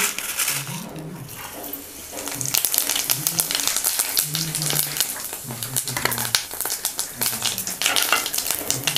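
Cumin seeds crackle and sizzle as they hit hot mustard oil, a busy spitting hiss that swells after the first couple of seconds. Low, murmuring tones run underneath throughout.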